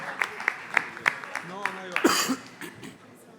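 Sparse audience clapping at a morning session of a startup sandbox conference: a handful of separate, evenly spaced claps that thin out, followed by brief voices and a cough.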